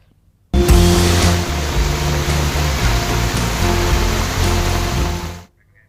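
Heavy monsoon rain in Rajasthan: a dense, loud, continuous downpour hiss that starts abruptly and runs about five seconds over a faint low tonal hum, with no talking.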